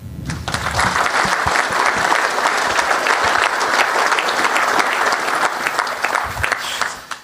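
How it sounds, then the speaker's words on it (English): Sustained applause from a press conference audience for football staff, a loud, dense patter of clapping that carries steadily for several seconds before tapering off. "So also for them, a big applause."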